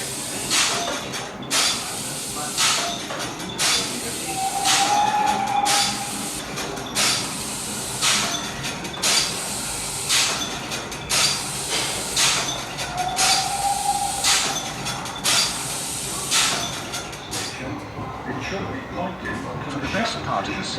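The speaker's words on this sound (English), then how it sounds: "Start braking very gently and let her run into the station." A steam-era train at the Swindon GWR rail museum eases gently into a station under braking, with rhythmic hissing bursts of steam, a low rolling rumble and two brief high brake squeals, while someone speaks over it.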